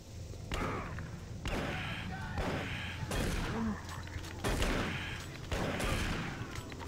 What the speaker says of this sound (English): It takes roughly 3 shots to kill them with a shotgun.